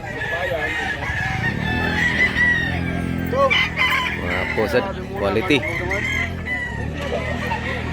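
A rooster crows at a Cebu market where gamefowl are sold, its call rising over steady nearby talk and other birds clucking in the background.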